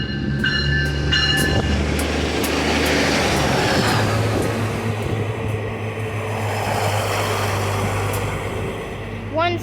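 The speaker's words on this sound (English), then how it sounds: "Train 3 off to Larkspur." A Nippon Sharyo diesel multiple unit passes at Cotati, heading southbound, its steady engine drone and rolling rumble loud and close throughout, with a horn-like tone early on.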